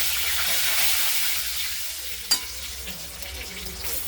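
Cumin, crushed garlic and curry leaves fry in hot oil with a continuous close sizzle that eases slightly. A single sharp clink sounds partway through, and nobody speaks.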